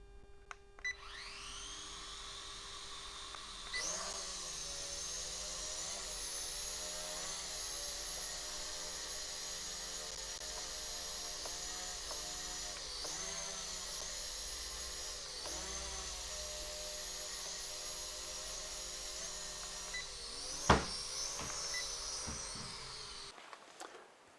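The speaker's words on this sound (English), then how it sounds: "I'll be able to make acoustic images of the drone flying around" A small drone flying indoors, a steady high-pitched whine of spinning rotors holding for over twenty seconds, with pitch wobbles as it maneuvers and a few bumps before it cuts off.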